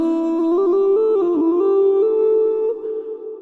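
A sung choir-style stream alert for incoming raiders, a song of hope and love: a sustained melodic vocal line with stacked harmonics, loud and continuous, fading slightly at the end.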